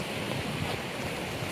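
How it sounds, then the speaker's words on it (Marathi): Floodwater surges over a village bridge during a heavy monsoon downpour in the Sahyadri hills, a dense, unbroken roar of rushing water and rain. "इकडे हे बघा समोर पूल आहे, या पुलावर पण पाणी चढलंय."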